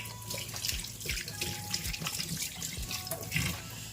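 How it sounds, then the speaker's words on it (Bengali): Fish being washed under a running tap, water streaming and splashing steadily into a sink with irregular gurgles and drips as the pieces are handled, close and fairly quiet. "এই যে মাছগুলো সব ধুয়ে নিলাম"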